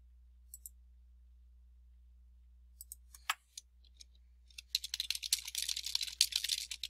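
Computer keyboard typing during page editing: a few isolated key clicks at first, then a rapid, dense burst of keystrokes near the end over a low steady hum.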